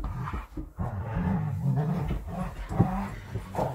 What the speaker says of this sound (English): Dogs are murdering each other in the background.